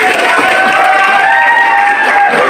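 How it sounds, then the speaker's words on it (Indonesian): A student election debate audience cheers and applauds for candidate pair number 2, a dense continuous roar of clapping and shouting from a large crowd close by. "Sekali lagi aplaus untuk paslon nomor 2."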